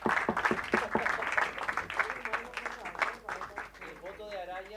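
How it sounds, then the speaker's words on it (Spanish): Audience members at a citizen security committee session applaud the newly elected president, a few sharp individual claps swelling into a moderate round that tapers off as a voice begins speaking. "Les pido un aplauso para el nuevo presidente."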